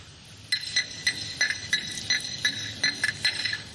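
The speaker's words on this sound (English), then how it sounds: "That's the sound of a coin in a cup." A coin is shaken inside a cup during a stage magic routine, giving a quick series of about a dozen light metallic clinks and rattles in an irregular rhythm, fairly close and alone.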